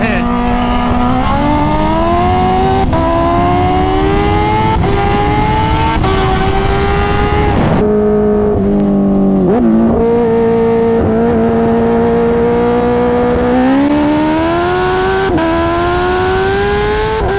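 A Kawasaki Ninja H2 and a turbocharged Hayabusa, both around 300 wheel horsepower, accelerate hard at full throttle through the low gears, with loud, close engine notes climbing and then dropping sharply at each gear change.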